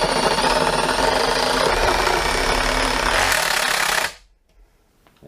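A DeWalt DT7513T running in hammer-drill action into existing holes gives a loud, dense, continuous rattling roar that stops abruptly after about four seconds, leaving near silence.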